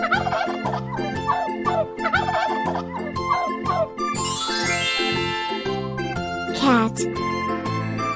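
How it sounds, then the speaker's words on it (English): Turkey gobbling in a rapid warbling burst set against cheerful jingling music with chimes, mixed with a voice speaking along. "turkey,"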